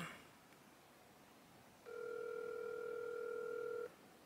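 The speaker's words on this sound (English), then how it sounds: "Why is he not answering the phone?" An outgoing phone call rings unanswered, a single steady ringback tone lasting about two seconds in otherwise quiet surroundings.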